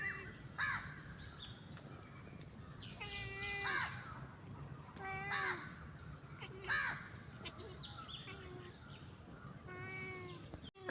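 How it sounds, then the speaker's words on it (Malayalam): A crow caws several times in short harsh bursts at moderate distance, with people talking faintly in between and a cat-like quality to some calls. "കാക്കയെ വിളിച്ചൂട്."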